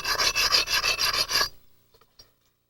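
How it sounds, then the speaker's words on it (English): Close, rhythmic rasping strokes grind the platform edge of a novaculite flint preform, about six loud passes for a second and a half, then a few faint ticks and silence. "Let me grind this and I'll show you what I'm talking about."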